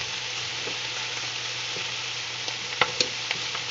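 Pork chops sizzle and fry steadily in a hot pan, a constant crackling hiss with a few sharper pops and spatters near the end, no voices.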